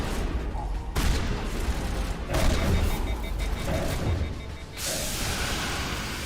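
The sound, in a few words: gunfire in a space video game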